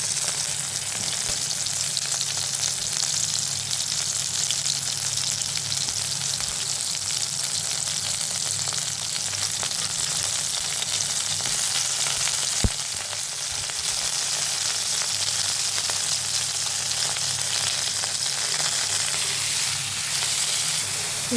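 Tomatoes and onions fry with green chillies in a pan, giving a steady, close hiss and crackle that runs unbroken, with a brief clink partway through.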